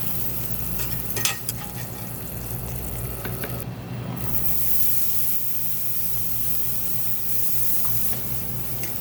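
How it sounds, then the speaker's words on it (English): Onions and garlic frying in pork fat from crisped lardons in a pan, a loud, steady, dense sizzle and crackle running throughout with occasional stirring clinks. "We're gonna add our onions and our garlic."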